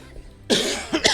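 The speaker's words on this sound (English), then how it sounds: "Excuse me, I've got a bit of a cough." A few sharp, close coughs, one loud burst followed by two quicker ones, with no talking.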